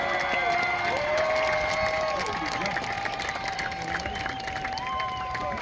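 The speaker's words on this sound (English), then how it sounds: "give them a big round of applause for helping you get all the way to school" A large crowd at a high school graduation applauds and cheers for the families, a continuous wash of clapping with whoops and shouts, voices mixed throughout.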